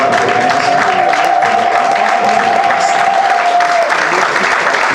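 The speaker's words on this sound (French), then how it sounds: "would like you to clap for them" A church congregation claps and cheers steadily throughout a Sunday service, a dense, loud wall of applause with a sustained tone ringing through the middle of it.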